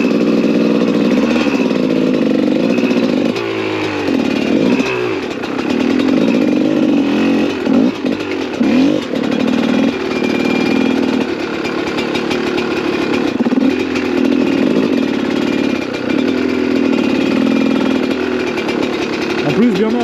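A GasGas 300 dirt bike engine runs continuously and loudly while riding between ruts on a trail, a buzzing two-stroke drone that rises and falls slightly in pitch throughout.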